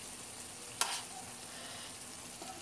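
A seafood dish simmers gently in a pan, giving off a soft, steady hiss with a single faint click partway through.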